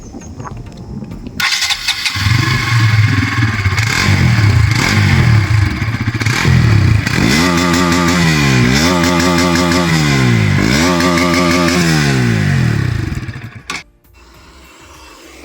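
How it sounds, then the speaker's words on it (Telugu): A Bajaj Pulsar NS200 motorcycle cranks and fires up close by, then idles with a throbbing exhaust note before several sharp throttle blips rise and fall, ending with the engine cut and a brief quiet. "ఒకసారి దీని ఎగ్జాస్ట్ నోట్ విన్నాను రండి ఫ్రెండ్స్."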